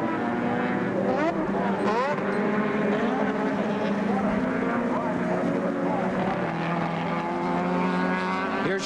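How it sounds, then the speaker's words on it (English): IMSA sports race cars from 1985 scream around the Charlotte track's banking, several engines whining and shifting pitch continuously as they pass, with a commentator talking over the roar. "right behind him comes Brian Redman as they scream through the 24-degree banking"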